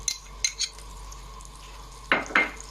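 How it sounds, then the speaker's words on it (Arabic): Crushed garlic is stirred in a hot pot for seafood soup, giving a faint steady sizzle under a few sharp clinks of a utensil against the pot. "هبدا اشوح حاجه بسيطه كده تاخد لون معايا علشان ايه انزل بشوربه السي فود"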